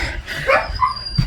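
A house dog gives a brief, close bark and a short yip, upset at being left behind, in a quiet indoor room.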